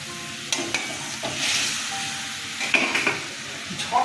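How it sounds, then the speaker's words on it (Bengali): Eggs go into a boiling curry gravy in a pan for egg kasha, with a steady hiss of bubbling and sizzling, a few clinks and scrapes of utensils, and brief bursts of louder spitting. "ঝোল ফুটে গেছে গরম মশলা দিয়ে দিলাম একটু এবার ডিমগুলো ছেড়ে দিচ্ছি"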